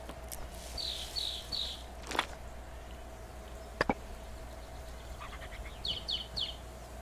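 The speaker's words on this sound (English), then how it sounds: "I hear a bird." Bird calls in a survival video game: two bursts of quick, bright triple chirps, one early and one near the end, over a steady low ambient hum, with a few sharp footstep-like knocks in between and no talking.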